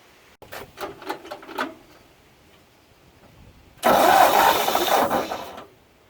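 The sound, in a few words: 1959 Ford tow truck engine cranking and starting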